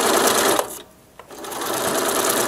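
A sewing machine stitches fabric at a steady rapid whir, stopping briefly for a moment of near silence with a small click, then resuming its fast even hum, close and alone.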